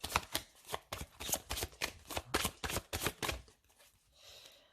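A deck of oracle zodiac cards is shuffled by hand in a quick series of close, crisp riffles and slaps. The shuffling fades into soft rustling at the end.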